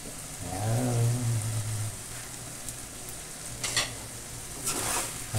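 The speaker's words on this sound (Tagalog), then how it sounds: "Haluin natin." A spoon stirring pork litson paksiw as it simmers and bubbles in a pot, a steady close sizzle-like hiss with scraping stir strokes and a faint low hum underneath, no talk.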